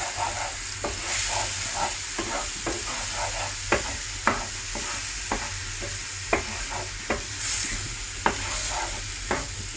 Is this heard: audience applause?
no